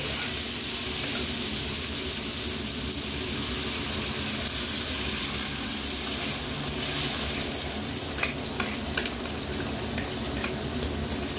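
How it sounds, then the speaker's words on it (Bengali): A broad, steady sizzle rises from a pan of fried spice paste for a Bengali bottle-gourd shukto as water is added, with a few sharp clicks near the end. "এইবারে আমি জল দিয়ে দেব।"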